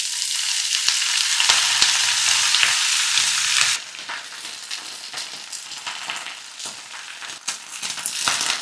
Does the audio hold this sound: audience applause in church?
no